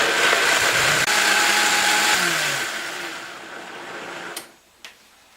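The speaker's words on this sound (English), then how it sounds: "Get my food blender out here. This is one of those Vitamixers." A Vitamix blender purees blackberries with a loud, dense whir that holds steady, then winds down as the motor stops, followed by two sharp clicks from the machine.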